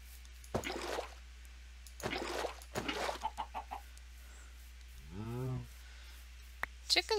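Minecraft chickens clucking in a blocky farm game, a few short clucks and a rising squawk spaced apart against a quiet background, with a faint drip-like blip near the end.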